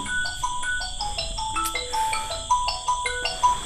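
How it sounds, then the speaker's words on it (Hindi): A phone ringtone plays a repeating electronic melody of bright tonal notes, ringing alone at moderate volume in a classroom lecture setting with no talk over it. "फोन भी अभी आना था"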